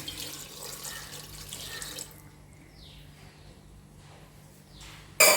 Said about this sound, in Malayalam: നല്ല വേവാൻ വേണ്ടിയിട്ട് കുറച്ച് വെള്ളം ഒഴിക്കുന്നുണ്ട്